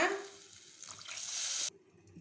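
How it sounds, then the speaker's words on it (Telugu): A glass of water is poured into sambar in a pot, a brief close rushing splash that swells and then cuts off sharply, leaving quiet. "ఇందులో ఒక గ్లాస్ వాటర్ వేస్తున్నా"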